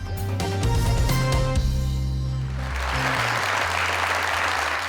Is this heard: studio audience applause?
yes